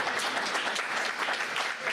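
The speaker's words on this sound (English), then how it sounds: "Y'all give him a round of applause for Mr. Kelly." An audience at a city commission meeting applauds, a dense steady patter of many hands clapping at moderate loudness throughout, with no speech over it.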